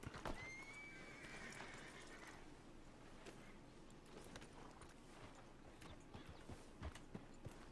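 In Red Dead Redemption 2, a horse whinnies early on while steady clip-clop hoofbeats keep going under a faint, busy ambient background.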